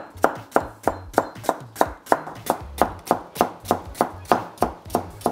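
Knife chopping squid into long strips on a cutting board, a steady run of about fifteen crisp, evenly spaced thuds, close and clear with no talk.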